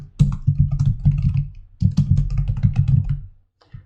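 Rapid typing on a computer keyboard while filling in a web form, with brisk bursts of clacking keystrokes, a short pause midway, then another flurry and a final tap, close and clear with no voices.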